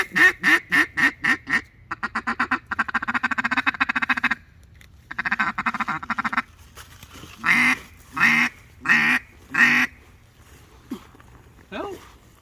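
A duck flies in during a hunt, with loud, repeated quacks in rhythmic bursts, then a rapid chattering run and a few more spaced quacks, close and prominent over quiet background.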